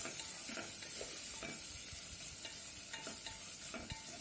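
A small amount of chopped onion frying in a pan for chana chaat, giving a steady soft sizzle with faint stirring scrapes throughout, close and fairly quiet, with no talking.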